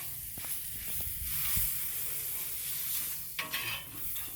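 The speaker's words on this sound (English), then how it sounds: "So let's go ahead and get this butter on there." Butter sizzles on a Blackstone griddle, a steady close hiss with scraping and a few light clatters as a utensil spreads it around.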